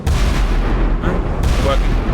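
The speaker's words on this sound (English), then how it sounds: "Let me check if they still work. 5 inch. Fire." A 5-inch naval gun fires in a naval combat video game, two loud booming shots about a second apart over a low rumbling background.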